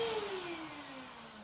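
A Hoover H-Free HF18CPT cordless stick vacuum runs close by with a steady, fairly loud whine and airflow hiss. The whine drifts slightly lower in pitch over a brief moment.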